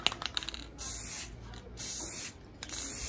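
Rust-Oleum flat white spray paint hisses in short bursts onto a tumbler, with a few quick spurts followed by longer sustained sprays, close and fairly loud with no talk.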